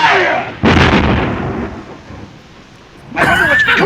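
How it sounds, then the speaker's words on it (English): A cannon fires in an old Three Stooges comedy, with a heavy booming blast followed by a long rumbling decay, then another loud burst of noise near the end. "I thought there was a cannon in this one"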